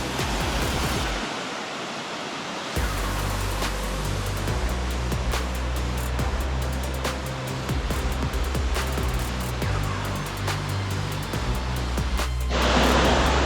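Rushing river water at Santa Rosa de Cabal hot springs in Colombia, a broad steady roar that drops out briefly near the start and then continues loud and unbroken.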